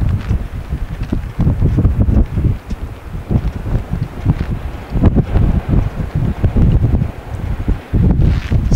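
Wind roars and buffets loudly against the microphone while riding a Harley-Davidson motorcycle on isolated roads in Iceland, a rough, gusty rush with the engine buried beneath it and no talk.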